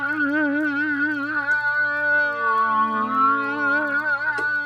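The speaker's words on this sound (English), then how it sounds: "So you kind of go back to sci-fi movies of the 1950s and sounds kind of like this" Wavering 1950s sci-fi alien effect: a warbling electronic tone with heavy vibrato that bends and glides down in pitch, steady and close, alone over a faint low hum.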